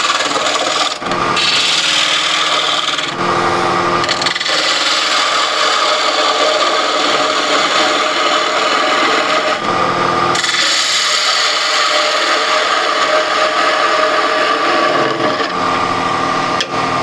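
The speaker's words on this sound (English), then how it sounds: "Going to remove the tenon here." Steady, loud, continuous sawing or rasping against wood as a tenon is removed from a wooden box, briefly pausing a few times before resuming, with no voices.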